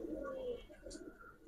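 A pair of Kaldom pigeons coo at close range, a low warbling call that is strongest at the start and then continues more softly, with a brief higher chirp partway through.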